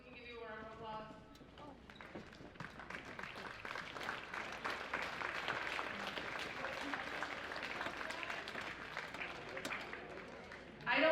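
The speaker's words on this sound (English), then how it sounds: "can I just have the National Junior Honor Society members come up so we can give you a round of applause?" Applause for National Junior Honor Society members at a middle school eighth-grade awards ceremony, a steady wash of clapping that keeps going for about ten seconds after a brief voice at the start.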